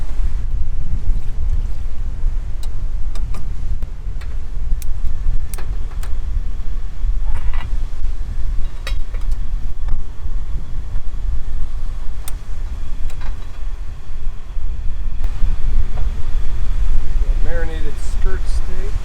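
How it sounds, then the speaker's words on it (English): Gusty wind roars across the mic at the Padre Island National Seashore as a cold front arrives. Low and loud, the rumble buffets on and off throughout, with surf in the background and faint scattered clicks. "Doing this in gusty winds is not the easiest thing in the world."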